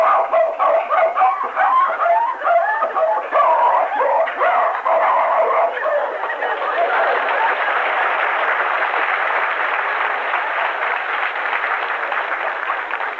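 A voice mimics a Norwegian elkhound barking, a run of choppy yelps and barks that blur into a steady strained howl, loud and close, on a 1954 radio show.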